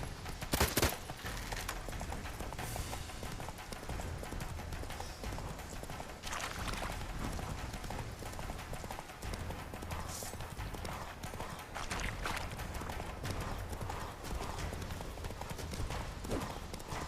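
Roach the horse gallops in The Witcher 3, a steady rapid clip-clop of hooves running throughout, loud and close, with a brief sharp burst near the start and occasional game sounds layered over the pounding rhythm.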